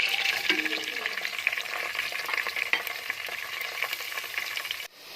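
Steady, loud sizzling and crackling of onions frying in hot oil, continuous throughout with no voices, cutting off abruptly at the end.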